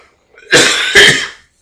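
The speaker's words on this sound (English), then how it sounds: "That sounds like a rough cough." A single rough, harsh cough in two bursts, loud and close, with silence before and after.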